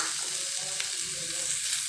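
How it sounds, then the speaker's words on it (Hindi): Garlic and sausage frying in a pan, a steady close hissing sizzle with faint crackles and light stirring throughout, with no talk. "हल्का सा बस फ्राई कर लेती हूँ।"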